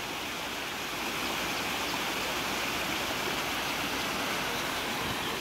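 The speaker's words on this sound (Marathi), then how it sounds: "हे असं टेम्पल आहे आणि ते बाजूलाच एक छोटा वॉटरफॉल आहे" A small waterfall beside Kondeshwar temple in Badlapur, heard as a steady, dense rush of falling water throughout, fairly close, with no voices.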